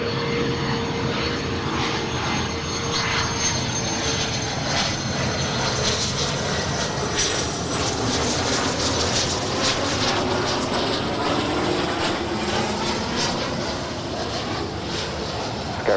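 A NetJets business jet comes in to land at LAX, its engines a continuous broad roar that holds steady and fairly loud throughout, with no voices over it.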